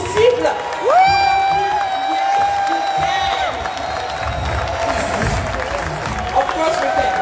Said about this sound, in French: j'aimerais que vous applaudissiez pour eux et que vous leur envoyiez toutes les